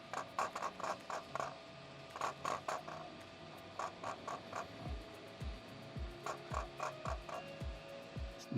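A 3D printer runs nearby, its stepper motors whirring and scratching in repeated short mechanical bursts with rhythmic sliding movements, steady and moderately quiet with no talking.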